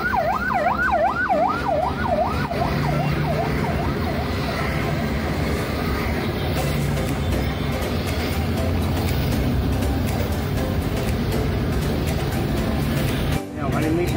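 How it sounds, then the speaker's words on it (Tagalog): Ambulance sirens wailing through heavy traffic, the rising and falling tone loud at first and then fading under steady road and engine noise, with vehicles moving nearby. "Kung kailan matraffic, ang dami namang ambulansya."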